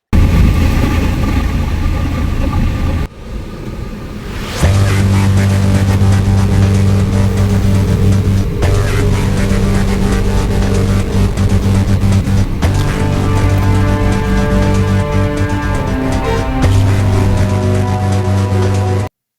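Busy Jaipur road traffic with car engines idling and revving nearby, a loud steady rumble that briefly dips and then picks up again as vehicles move.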